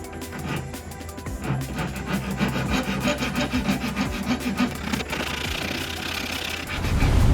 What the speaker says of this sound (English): it's time to start sharpening the blade